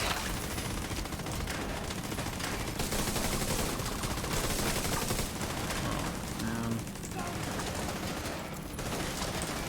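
Skill turrets shooting enemies in Division 2, rapid sustained gunfire bursts under game effects, dense and loud with a player talking over parts of it.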